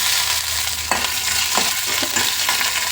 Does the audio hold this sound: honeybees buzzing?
no